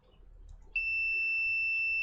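A multimeter gives a continuity test beep while pins on a 737 home simulator panel are checked: after a moment of quiet handling it sounds a single steady, high, piercing tone that keeps going to the end.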